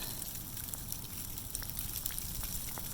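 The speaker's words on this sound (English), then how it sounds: "This is the beginning of our big winter storm here in Indiana, and it's starting with a bunch of sleet." Sleet falls at the start of a big winter storm in Indiana, tiny ice pellets making a dense, even hiss and patter of fine ticks throughout, close and steady, with no voices.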